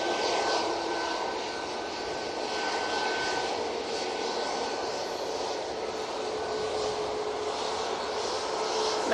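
A jet airliner departing Manchester Airport for Oslo roars steadily overhead at moderate distance, a broad sustained engine rumble holding even throughout with no talk.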